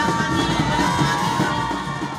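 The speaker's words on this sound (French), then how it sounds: "Des acclamations nourries qui accueillent la première dame de Côte d'Ivoire, Dominique Ouattara, à son arrivée" A crowd of women in Côte d'Ivoire cheers the arrival of first lady Dominique Ouattara, a loud continuous roar of whoops, yells and shouts filling the whole stretch.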